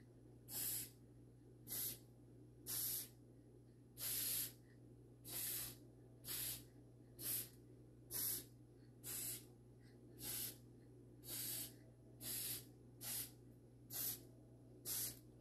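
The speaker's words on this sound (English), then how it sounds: "you're just going to spray it, just a light spray." Aerosol can spraying gloss coating onto a 12 x 12 sublimation canvas from about a foot away, in roughly fifteen short, evenly spaced hissing bursts; near and clear against a quiet, low background hum.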